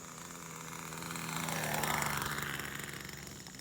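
An SH GF6 remote-control aircraft idles as it comes in to land, a thin buzzing motor drone that swells and then fades as it passes overhead, heard alone with no talking.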